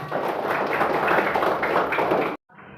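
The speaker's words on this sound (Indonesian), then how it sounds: "Ya, tepuk tangan semuanya." Children clap their hands together in a classroom lesson, a dense, steady burst of many small hands close by that runs for about two seconds and then cuts off abruptly into a quiet room hush.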